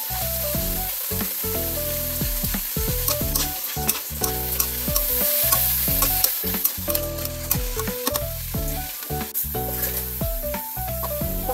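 Chayote sautéing in a pan gives a continuous loud sizzle with frequent stirring scrapes, all under steady background music.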